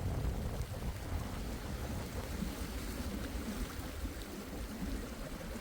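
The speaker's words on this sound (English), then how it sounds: "Oh wow, it's just suddenly started raining." Rain pattering steadily on a sailing boat running on a broad reach, a constant soft hiss with low rumbling wash of water and wind underneath, no voices.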